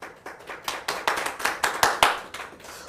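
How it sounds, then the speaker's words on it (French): A small group applauds a choir director at a gathering, with a short run of distinct, fairly close handclaps in a loose, uneven rhythm that swells slightly before fading. "Est-ce qu'on peut applaudir Madame Alphonsine Atta"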